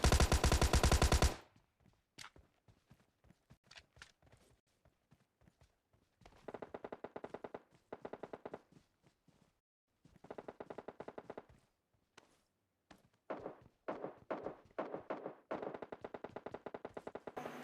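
AKM rifle fire in a battle royale video game comes as rapid sharp shots in repeated bursts and single taps, loud and near, with short silent gaps between volleys.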